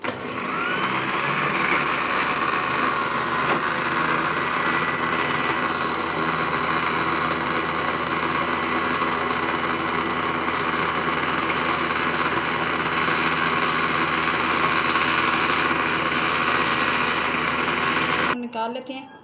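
An electric blender whirs steadily while blending shawarma sauce with mayonnaise, a loud continuous motor drone lasting most of the clip before cutting off abruptly near the end.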